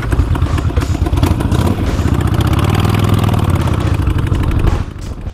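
A motorcycle engine rumbles loudly nearby, a throaty chugging that revs slightly before cutting off at the end.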